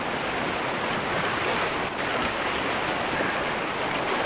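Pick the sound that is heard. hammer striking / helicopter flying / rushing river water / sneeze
rushing river water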